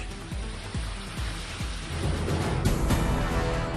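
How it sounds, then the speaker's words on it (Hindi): Heavy rain pours in Tamil Nadu, a dense steady hiss close by with a few low rumbles of thunder near the start and no talk. "चेन्नई के कई हिस्सों में हुई जमकर बारिश"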